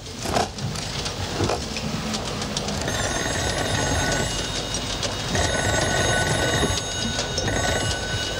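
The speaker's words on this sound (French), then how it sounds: "Tiens, le téléphone est là." A telephone rings in repeated bursts, bright and insistent, over a busy, noisy background.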